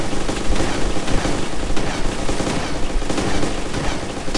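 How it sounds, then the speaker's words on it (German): Gunfire in the video game DayZ, with several weapons opening fire at once in a dense, loud, continuous barrage of overlapping shots lasting several seconds. "dann auf drei öffnen wir das Feuer"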